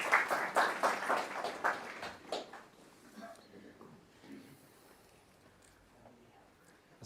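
Guests at a question-and-answer gathering clap to welcome a doctor to the stage, a brief burst of applause for about two seconds that thins into scattered claps and quiet room noise.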